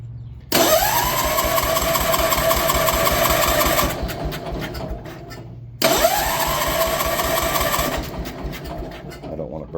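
A tiller engine cranks on its electric starter in two long bursts, a loud whirring churn that runs several seconds each time, with a short pause between and no catch.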